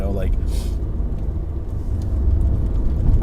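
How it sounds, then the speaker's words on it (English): Low rumbling road noise from a moving car, steady engine and tire drone filling the cabin. "I'm driving right now."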